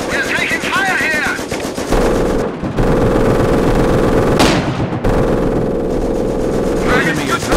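Company of Heroes battle: loud, sustained machine-gun bursts and heavy gunfire fill the scene, with shouting voices over the shooting and a brief pause before the firing resumes.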